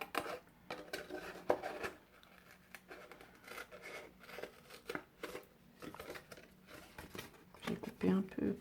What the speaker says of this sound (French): Donc, je coupe le long du pli.